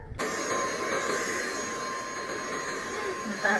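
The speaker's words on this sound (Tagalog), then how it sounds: "vacuum muna si mama vacuum muna si mama" Household vacuum cleaner switching on and running steadily with a constant motor drone, fairly close, with someone speaking over it near the end.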